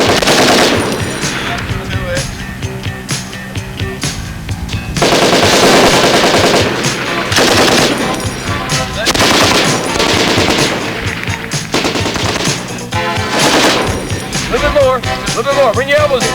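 A machine gun fires live during army basic training, with loud, close bursts of rapid automatic fire that repeat with short pauses between them, and distant shooting and voices in the background.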